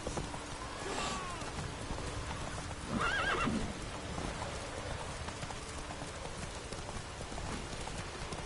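Roach, a horse in The Witcher 3, neighs loudly once and is heard galloping through the rain, with hooves clopping under a steady wash of rainfall.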